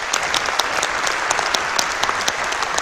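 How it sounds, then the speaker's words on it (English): Audience applause following a call for a round of thanks at the close of a staged event, steady dense clapping from a sizeable crowd, near and fairly loud, with no talk over it. "So a round of applause, please."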